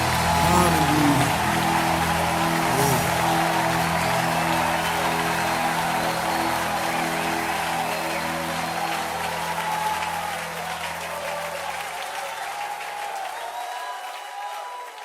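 Church congregation applauding during a worship service, a steady broad wash of clapping over sustained held tones and low droning sound, fading out near the end.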